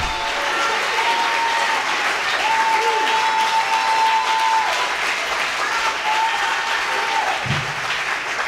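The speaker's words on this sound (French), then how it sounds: "Tu te lèves et tu acclames le Seigneur." A church congregation at a combined worship service applauds steadily throughout, a dense wash of clapping with a sustained tone running beneath it, under some voices.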